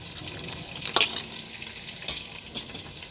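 Food fries in hot oil in a kadai, a low steady sizzle broken by a sharp spattering burst and a couple of fainter pops, with no voices.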